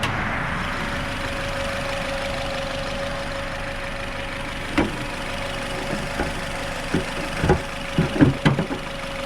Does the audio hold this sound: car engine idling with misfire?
yes